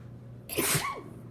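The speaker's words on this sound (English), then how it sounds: "And I might sneeze." A single sharp sneeze bursts out close by, a quick intake followed by an explosive hiss, against quiet room hum.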